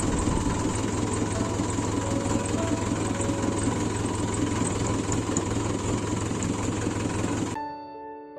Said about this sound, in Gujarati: એટલે આપણે ટ્રેક્ટર ધીમે ધીમે તાકવાનું છે